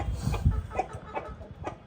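An Aseel rooster clucks in short, repeated bursts, fairly close and alone, with a few soft clucks spaced across the moment.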